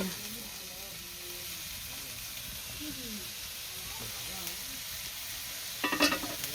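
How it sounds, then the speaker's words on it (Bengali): Goat meat curry with drumsticks sizzles and fries steadily in a pan while it is stirred, a soft continuous hiss with faint scraping and a brief clatter near the end; a voice talks quietly underneath. "এই যে সাজনা তরকারি চুলাই দিয়ে দিছে এমন নাড়াচাড়া দিব কষাইব"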